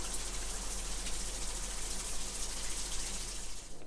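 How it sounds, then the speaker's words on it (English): Water from a tap rushes steadily through household water and waste pipes being cleaned, a continuous close gushing hiss that holds level throughout before thinning slightly at the end. "I'm just going to draw a little bit more water through"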